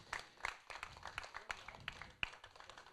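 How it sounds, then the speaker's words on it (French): Scattered clapping from an audience at a table football (baby-foot) tournament, irregular hand claps mixed with light chatter, a short burst of applause rather than a full ovation. "Encore bravo à eux, on peut les applaudir."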